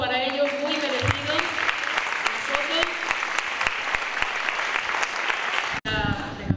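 An audience at a 2018 sports gala gives loud, sustained applause to a local society's president and a director. Thick, even clapping runs throughout, with talk faintly underneath, and breaks off sharply near the end.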